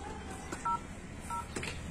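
A telephone keypad dials 100, giving three short, evenly spaced electronic tones over a faint background hiss.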